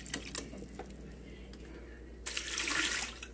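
Water runs from a refrigerator's door dispenser just after a new filter is installed, a faint hissing trickle with small clicks and knocks, then a louder, fuller gush of flow near the end.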